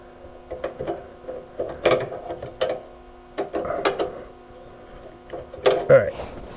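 Ratchet clicks and metallic clanks from loosening a brake part on a 2004 GMC Denali, several short bursts of close mechanical ticking with pauses between, under a faint steady hum.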